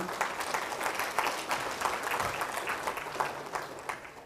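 A church congregation claps along during a Malayalam Christian sermon, producing steady, dense applause that carries on for several seconds with no pause.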